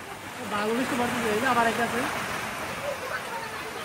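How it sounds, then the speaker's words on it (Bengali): Rain falls steadily on a rural village, a continuous broadband hiss running through the whole stretch while people talk over it. "কি বৃষ্টি হইতেছে"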